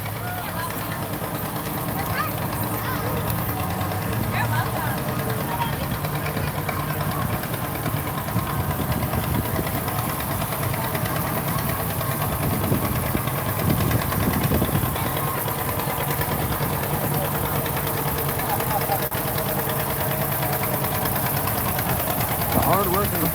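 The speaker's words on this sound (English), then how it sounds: "And then we've got a couple of John Deere tractors behind them." Several John Deere tractors roll past in a July 4th parade in Columbus, their engines idling and knocking in a steady low rumble mixed with crowd and background chatter throughout.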